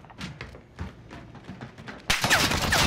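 Gunfire in the Call of Duty Warzone video game: a run of sharp separate shots in quick succession, then a louder, denser burst of firing at the end, with no talk.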